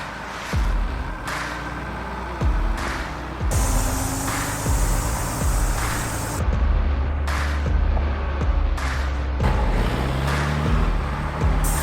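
A Unimog off-road truck on 47-inch tires drives across desert terrain, its engine rumbling steadily with repeated bursts of noise and rattling over about twelve seconds, with no speech.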